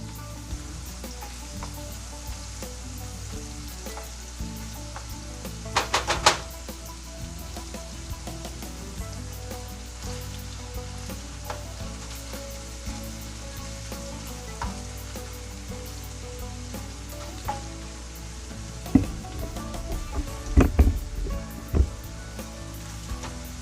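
Onions sauté in a pan for Pennsylvania-style sloppy joes, a steady, loud sizzle throughout, with a few sharp clanks of stirring near the middle and toward the end.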